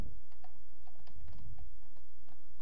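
Someone types on a computer keyboard, a light patter of quick, uneven key clicks heard close and alone.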